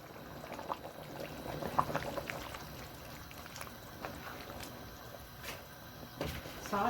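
Cooked lentils poured into a pot of tender goat neck meat, a soft wet sloshing pour that runs faint and continuous, with scattered light clinks throughout.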